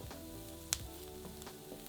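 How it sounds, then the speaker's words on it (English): Finely diced onion and carrot fry in oil in a pan with a steady soft sizzle, a quiet crackle and one sharp pop, with no talking. "Now add in a finely diced onion and a finely diced carrot and cook for 5 minutes"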